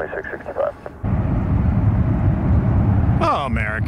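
American Airlines jet taking off from runway 1 right at San Francisco International Airport, a loud, steady engine roar rising under radio talk at the start and end.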